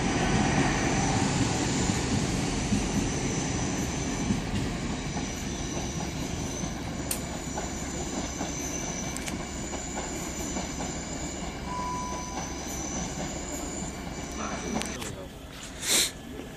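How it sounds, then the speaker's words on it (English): A CrossCountry passenger train arriving at Bristol Parkway station rumbles in with a steady rolling roar, occasional clicks and faint wheel squeal, easing toward the end as it slows at the platform. "Cross-country service coming in, going to Manchester Piccadilly."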